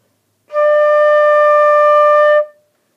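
A flute sounds a single sustained D, clean and steady for about two seconds with a soft breathy onset, heard alone in a quiet room.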